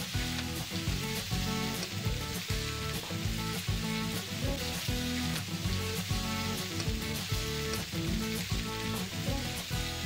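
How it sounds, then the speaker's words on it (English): Rice frying in a pan gives a loud, dense sizzle that runs steadily throughout, with rhythmic stirring scrapes pulsing close underneath. "And then I'll fry the rice."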